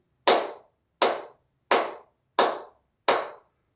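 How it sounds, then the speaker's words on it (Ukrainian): Five sharp hand claps in a steady, evenly spaced rhythm, loud and close, with silence between each clap. "Плескаємо разом."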